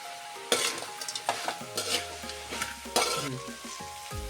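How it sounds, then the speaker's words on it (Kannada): Fried gobi (cauliflower) tumbles into a hot pan and is stirred. The oil sizzles loudly, with clinks and scrapes of a spoon against the metal nearby, and no talking. "ಇಷ್ಟು ಕರ್ದ ಗೋಬಿಯನ್ನು ಹಾಕೋದು ಇದಕ್ಕೆ."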